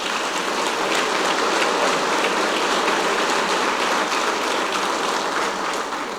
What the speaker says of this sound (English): They deserve a round of applause for that endeavor.